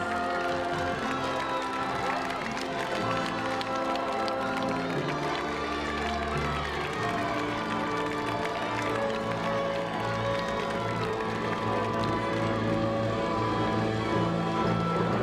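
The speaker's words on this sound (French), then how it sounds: "La clameur emplit l'espace sacré, gagne le parvis" Dense, loud crowd clamour fills a cathedral during a 2013 Joan of Arc sound-and-light show, sustained without a break and layered with tonal, musical elements throughout.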